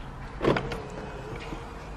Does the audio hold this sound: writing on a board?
no